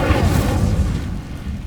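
A spell cast in Hogwarts Legacy, the Incendio fire charm, lands as a deep booming burst of flame that rumbles loudly and then fades over about a second and a half.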